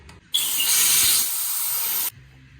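Gasket cleaner sprays from an aerosol can onto a part of a rotten V8 HQ ute engine during head gasket work, a loud, close hiss lasting under two seconds that starts and stops abruptly.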